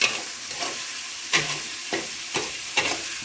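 Eggs fry in hot oil with masala while being stirred, a quiet steady sizzle broken by about five evenly spaced scraping strokes of the stirring utensil against the pan.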